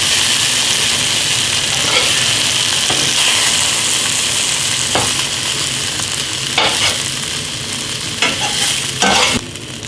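Chicken pieces browning in oil in a pan give a loud, steady sizzle and fry, with occasional scrapes and clatter from a utensil moving them around.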